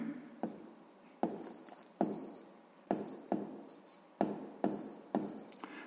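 A pen strikes and scratches across paper while working a sixth-grade math exercise, about eight sharp taps at uneven intervals, each trailing into a short scrape, close and quiet.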